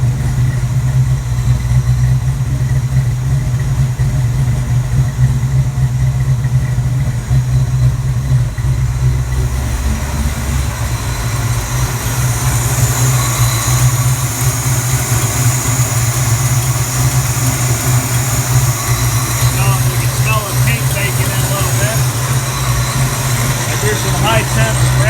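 A Ford Cleveland (Clevor) engine idling through DIY headers and exhaust on first startup, a steady low rumbling idle heard up close and running continuously, with a faint hiss rising partway through.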